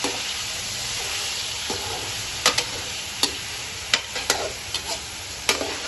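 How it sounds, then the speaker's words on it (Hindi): Mutton for biryani fries in a pot with whole spices, a soft continuous sizzle broken by sharp, irregular clicks and scrapes of a spoon against the metal, close up and with no voices. "इसको हम फ्राई कर लेंगे 7 से 8 मिनट।"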